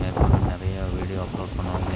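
Strong wind buffets the microphone on the Velliangiri mountain trek, a loud, gusty rumble that fills the short stretch, with faint voices in the background.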